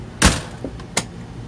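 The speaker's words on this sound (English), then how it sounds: "And I always lock the door when I come in." A motorhome door closes and locks at night: one solid thud, then a faint click and a second sharp latch snap, close by and brief, with no talking.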